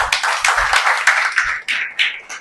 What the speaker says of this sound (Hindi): बजाओ 2 तालियां